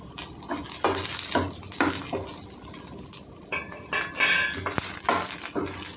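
Cumin seeds tossed into a pan of frying green chillies crackle and sizzle steadily, broken by a string of close spoon scrapes and taps against the pan.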